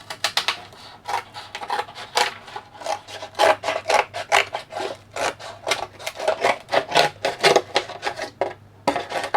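The edges of a cardboard pizza box are trimmed in a series of close, crisp cutting and scraping strokes, irregular and fairly loud, with a faint steady hum underneath.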